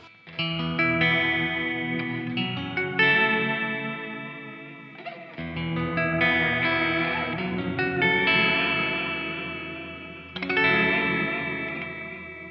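Guitar chords ring out through a Walrus Audio Slötvå multi-textural reverb pedal, sine-wave modulation making the sustained, distorted notes warble and swell in long washes, with several strummed attacks.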